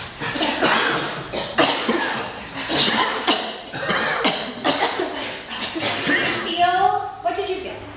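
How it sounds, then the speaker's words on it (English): A group of people cough in a scattered burst, many short overlapping coughs from different spots in a room, with murmuring and a bit of talk mixed in. "close your eyes, and then cough."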